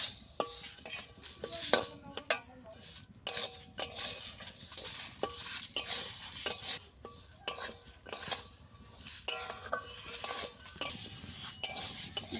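Moong dal dry-roasting in a hot pan without oil, stirred continuously with a metal spatula: rhythmic scraping and clinking strokes over a faint rattle of grains, close and steady.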